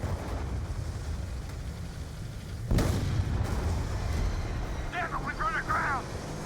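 A Valkyrie rocket fired in a video game gives one sudden loud blast with a rushing burst partway through, set over a steady low rumble of engine and battle noise. Voices speak briefly afterward.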